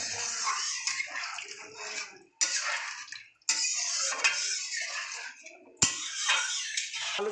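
Cold water poured into cooked masala in a pan, a loud close splashing gush that starts and stops in four bursts, with clinks of the pan between pours.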